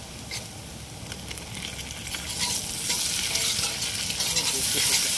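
Tomato and green chili frying in oil with onion already browned, a steady close sizzle with stirring scrapes, building slightly louder over the few seconds, no voices.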